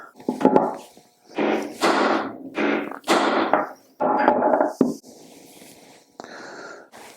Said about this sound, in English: So now I'm going to take my punch